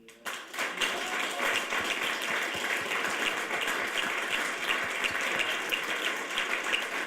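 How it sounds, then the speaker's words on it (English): An audience applauds at an innovation demo day, starting with a sharp onset and settling into a sustained, fairly even hiss of many hands clapping, slightly distant and roomy, with no talk over it. "give them a round of applause"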